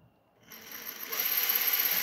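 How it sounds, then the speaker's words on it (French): A Traxxas TRX-4 RC truck shifting gears via a radio channel: near-silence, then a faint mechanical click and a rising high servo-and-motor whine that holds steady at low volume. "Pour le passage de vitesse, on est sur la channel 3 ici."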